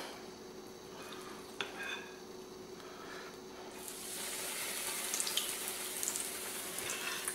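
Apple fritter batter drops into hot canola oil in a skillet. A quiet steady hiss swells into a louder, fuller crackling sizzle halfway through, with a few light clinks.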